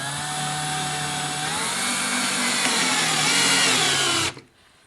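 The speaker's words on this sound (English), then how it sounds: "We're just gonna put some drywall screws in here and wrap this up." Steady, loud whine of a power drill driving drywall screws through drywall into a 2x2 backing piece, one sustained run of several seconds that cuts off abruptly.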